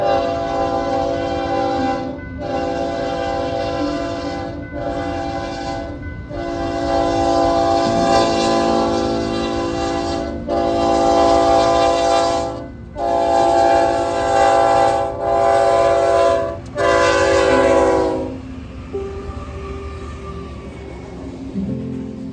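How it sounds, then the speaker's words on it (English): A freight train horn blares in a series of long and short blasts over the steady rumble and clatter of the passing freight train, loud and close. "here's the train"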